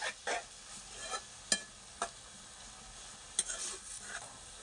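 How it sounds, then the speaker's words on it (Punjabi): A ladle stirs carrot halwa (gajrela) cooked in creamy milk in a pan, giving a handful of sharp scrapes and clinks against the metal at irregular intervals over a faint simmering sizzle. "ਅਸੀਂ ਕੜਛੀ ਫੇਰ ਫੇਰ ਕੇ ਪਕਾਈ ਜਾਵਾਂਗੇ।"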